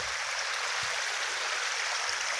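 A steady, even rush of rainwater streaming over a road surface, constant and close, with no pauses or voices.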